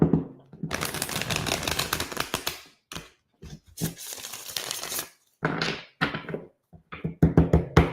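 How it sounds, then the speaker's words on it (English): Tarot cards are shuffled in quick bursts of riffling and flicking, loud and close, separated by short silences and ending in a flurry of sharp taps, with no talking. "One more shuffle."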